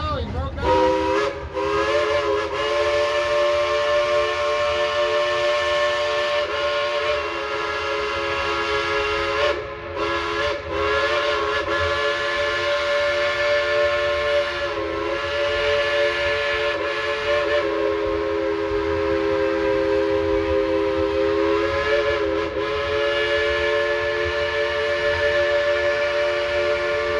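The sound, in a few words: Dollywood Express steam engine train whistle blowing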